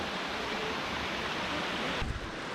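A waterfall roars in a steady, dense wash of rushing water close by. The sound shifts abruptly partway through and then continues.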